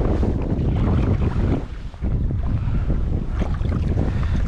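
Strong gusts of wind buffet the microphone over Lough Key while fishing from a boat, a loud, rumbling roar that dips briefly before surging back, with faint water movement beneath.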